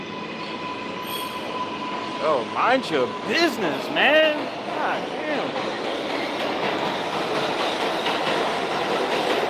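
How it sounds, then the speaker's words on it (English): A train rolls past at night outside a city brownstone, its wheels squealing on the rails and its steady rumble and clatter holding close and loud throughout, while a voice speaks over it. "let's wait for this train to pass"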